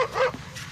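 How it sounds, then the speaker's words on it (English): A tiny Chihuahua gives one short, loud, high-pitched yip close by. "For a tiny dog, she's really loud."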